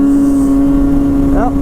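A Polaris Rush Pro R 600 snowmobile drones steadily at speed on a test ride, a constant loud engine tone close to the rider, with a voice speaking over it near the end.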